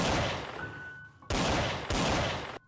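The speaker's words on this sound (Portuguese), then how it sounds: "o delegado mira a sua arma na cabeça da fera e atira" Loud gunshot sound effects in a dramatized werewolf story: three sharp blasts, the first long and ringing, then two more spaced bursts, each cut off abruptly, close and dominant with no voice.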